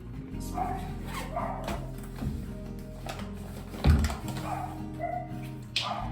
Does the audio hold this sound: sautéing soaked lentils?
no